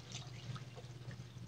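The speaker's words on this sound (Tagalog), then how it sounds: "And then, magdadagdag na ako ng tubig." Water trickling and splashing into a pot of simmering pork stew (nilagang baboy), a soft steady pour over a low constant hum, fairly quiet throughout.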